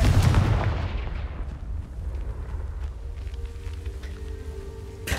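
A Confringo fire spell in Hogwarts Legacy lands with a loud booming blast that rolls off into a rumbling decay, then a quieter hum with a faint sharp crack near the end.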